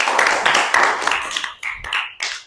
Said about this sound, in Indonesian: Berikan tepuk tangan untuk kelompok Habibie